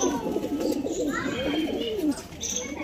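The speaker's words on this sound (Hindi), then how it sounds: "ये देखिए कबूतर, एक एक कबूतर बहुत शानदार है।" Pigeons coo softly and repeatedly, close by, with voices and children's chatter mixed in the background.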